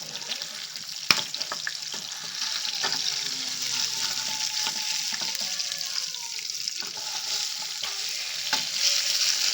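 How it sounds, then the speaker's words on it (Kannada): Salmon fish pieces frying in a pan over a medium flame, giving a steady close sizzle and crackle throughout with a few sharp clinks and scrapes of a utensil against the pan. "ಮೀಡಿಯಮ್ ಫ್ಲೇಮಲ್ಲಿ ಇಟ್ಟು ಫ್ರೈ ಮಾಡ್ಕೊಳ್ಳೋಣ"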